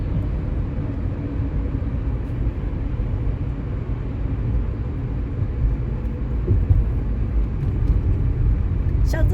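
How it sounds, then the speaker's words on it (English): Freeway traffic rumbles as a broad low roar of passing vehicles, steady and moderately loud with a faint swell near the end, heard from inside or beside the stopped and moving flow. "We've got stopping traffic up here again on the freeway."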